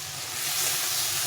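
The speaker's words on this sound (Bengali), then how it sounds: "করলা আর আলুটাকে কষিয়ে নিতে হবে" Bitter gourd and potato with salt and turmeric stir-frying in a pan, a steady close sizzling hiss with no break and no talk.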